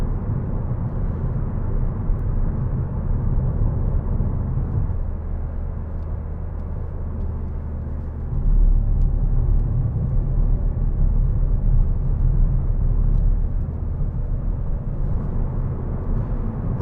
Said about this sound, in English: Great engine, this Ford diesel.